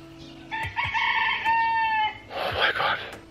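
Roosters crowing close by, with several long drawn-out crows that overlap one after another and a second burst near the end, plus faint clucking of fowl in the background.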